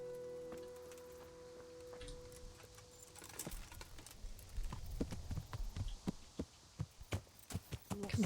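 Horse hooves clip-clop steadily while riding in the medieval video game Kingdom Come: Deliverance, growing louder and sharper in the second half with evenly spaced hoof strikes over a low ambient hum, no talking.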